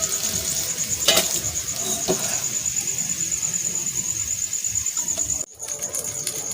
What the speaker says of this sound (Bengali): এই যে আলুগুলো ভেজে নিচ্ছি।